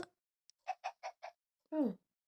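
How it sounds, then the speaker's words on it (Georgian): A Minecraft chicken in a video game gives a quick run of four clipped, evenly spaced clucks, then a longer squawking call, all sounding clean and close against silence. "ქათამის არის ბიჭო, ქათამის ხმა"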